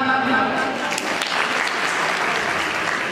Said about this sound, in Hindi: आपके लिए सबके लिए तालियां